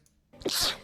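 A single sharp sneeze, a quick intake followed by a loud burst of breath, close to the microphone in a quiet room.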